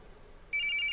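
Electronic telephone ring in the horror video game Corpse Party, a bright trilling tone that cuts in sharply halfway through and sustains steadily after a quiet lead-in.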